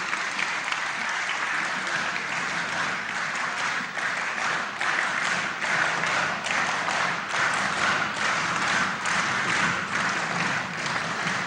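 Sustained, dense applause from an audience at a political party forum in Congress, steady and loud throughout with no voices standing out.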